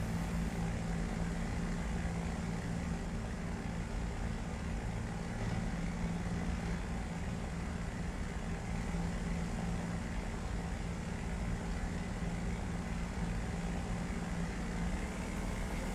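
Propeller airplane engine in a flight simulator game, a steady droning hum with a low tonal band that holds at an even level the whole time, no voices over it.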